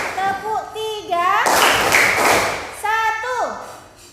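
A classroom of children claps in counted bursts during a group clapping routine, and a burst of claps sits between an adult voice calling out the counts.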